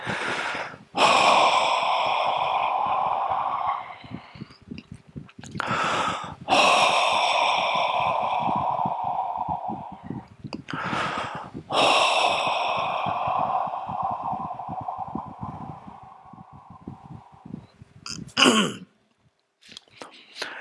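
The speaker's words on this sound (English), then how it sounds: "Take 3 deep breaths and with relief." Several deep breaths during a guided Buddhist meditation session, each a long audible inhale followed by a slow, sighing exhale. Roughly three to four breath cycles spaced a few seconds apart, close and fairly loud, with no talking.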